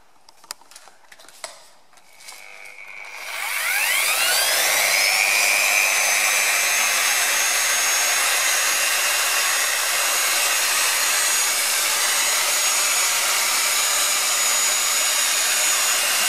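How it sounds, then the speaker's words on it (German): An electric sanding machine glides lightly over a car's clear coat to take out a scratch. It starts after a few faint clicks and a rising spin-up, then holds a loud, steady high whine close by to the end. "Ich lasse das Schleifgerät nur drüber gleiten"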